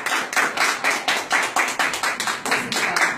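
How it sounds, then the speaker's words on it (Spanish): A small audience at an award presentation claps in a steady, rhythmic beat, close and fairly loud, the individual claps clearly separated in an even pulse. "un aplauso"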